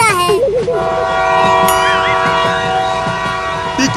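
A cartoon train rumbles past with a sustained, loud, multi-tone horn blaring over rolling wheel noise, with short squealing voice-like sounds early on.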